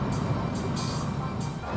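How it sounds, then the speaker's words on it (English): An automatic car wash dryer blows hard across a car from inside the vehicle, a loud continuous low roar with periodic hissing surges as the blower passes. "Let's see if this dryer's any good."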